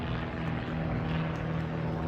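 A Grob Tutor propeller aircraft flying at the Blackpool airshow gives a steady, loud engine-and-propeller drone that holds without break through the whole stretch, with no talk.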